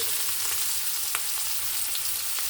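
Chopped onions sizzle in a generous pool of oil, a steady close frying hiss with a few sharper crackles and pops, no voices.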